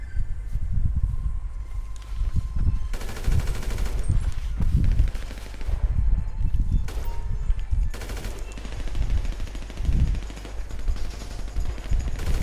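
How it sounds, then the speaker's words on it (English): Gunfire in GTA 5 Resurrection adversary mode, dense bursts of automatic-sounding shots rattling continuously over a low rumble, some volleys heavier and nearer than others. "Someone's shooting at me."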